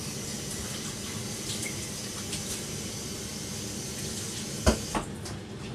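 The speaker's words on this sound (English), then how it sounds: "just rinsing it out with just that little bit of, see, just a little bit of water, not too much at all" Water trickles from a kitchen tap as beans are rinsed for akara, a steady soft flow with a brief splash near the end, close and continuous with no talk.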